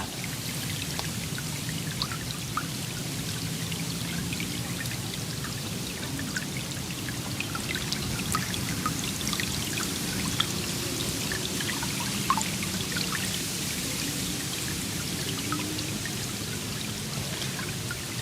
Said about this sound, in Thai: ไม่รู้ได้ยินเสียงน้ำไหลไหม